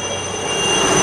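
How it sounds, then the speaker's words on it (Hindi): A helicopter's loud, steady engine roar with a high whine holds throughout and builds slightly toward the end as it passes close overhead near the HAL Aerospace Museum. "ये वाला एक हेलीकॉप्टर उड़ रहा है, इसीलिए बहुत शोर हो रहा है।"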